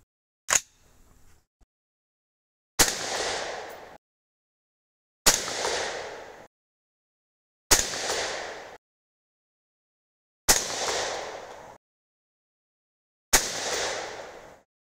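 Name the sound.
223 Rem rifle shots, 75gr Hornady BTHP loads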